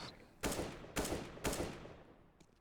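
Three AK rifle shots fired while moving in CS:GO, sharp loud bursts spaced about half a second apart, with no talk.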